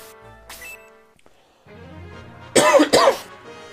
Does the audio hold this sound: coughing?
yes